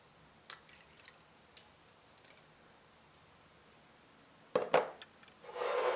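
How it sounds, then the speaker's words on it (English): Hot water is poured over raisins in a bowl while Caribbean Christmas rice is prepared: faint drips and small knocks, then a close, steady splashing pour for the final second. "To plump up the raisins, I am also adding some hot water to this."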